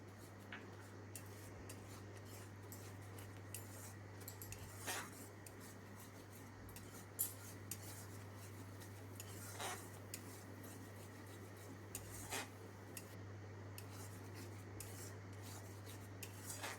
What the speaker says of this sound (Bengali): দিয়ে এগুলো এবার আমি ভালো করে কষিয়ে নেব।